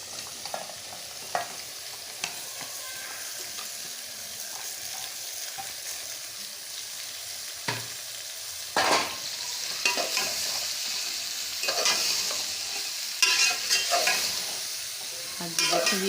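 Turnip pieces frying in a pan, sizzling steadily throughout while a spoon stirs them in loud irregular scrapes and clatters, with no voices.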